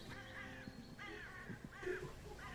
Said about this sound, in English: You can hear the morning crows as they're taking flight in the air.